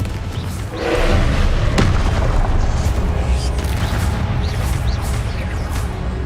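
A Confringo blasting spell in Hogwarts Legacy goes off as a heavy booming explosion near the start, then a rumbling tail and scattered thuds from the game's combat.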